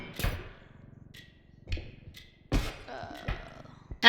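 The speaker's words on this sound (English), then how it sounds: "hammer." A hammer strikes in the co-op horror game REPO, several dull thuds spread through the stretch, the loudest near the start and end, with quieter knocks and brief tones between.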